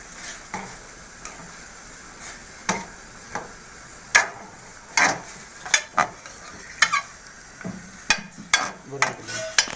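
Chicken white karahi with ginger and garlic being stirred in a pan, with a low sizzle under a series of distinct spoon-on-metal knocks and scrapes that come sparse at first, then quicker and clustered toward the end.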